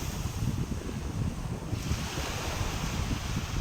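Sea waves along an East Coast Road beach between Pondicherry and Kalpakkam, a steady rushing surf with wind buffeting the microphone and no talk.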